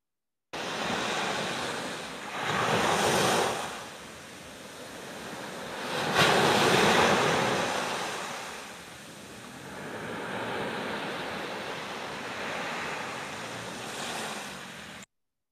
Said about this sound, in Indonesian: Yang bisa kita lihat ini ada ombak-ombak besar yang menanti mereka.